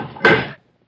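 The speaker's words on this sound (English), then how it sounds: "pull the door shut behind you" A door is pulled shut in a radio drama, one solid thud that cuts off quickly after a faint shuffle, close and fairly loud with no talk.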